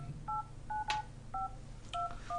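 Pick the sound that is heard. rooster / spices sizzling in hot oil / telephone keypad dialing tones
telephone keypad dialing tones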